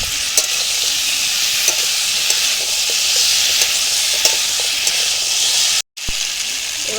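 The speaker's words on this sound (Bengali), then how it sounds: "এবার একটু আদা রসুন বাটা দিয়ে দেবো।" Potatoes, taro and pumpkin fry with ginger-garlic paste in a hot pan, giving a steady, close sizzle broken by occasional stirring scrapes and one brief dropout near the end.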